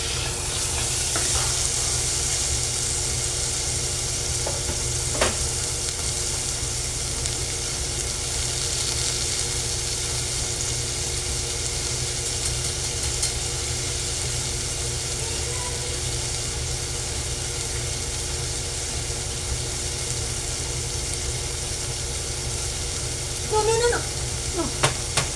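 Tomatoes sizzle and hiss steadily as they sauté in a hot pan, a constant frying wash that runs the whole time with a few faint stirring clinks.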